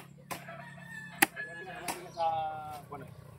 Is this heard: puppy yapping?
no